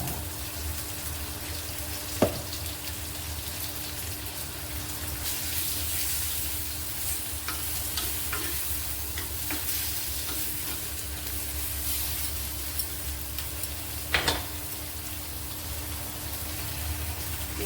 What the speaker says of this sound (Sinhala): ඉස්සෙල්ට බැදිලා ඇති.